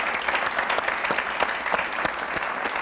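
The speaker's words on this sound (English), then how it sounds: "You guys give yourselves a round of applause." A live studio audience at a Chicago town hall broadcast claps steadily, a dense wash of many hands at moderate loudness with no voices over it, continuing through the whole stretch.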